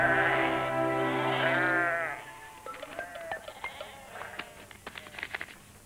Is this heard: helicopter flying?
no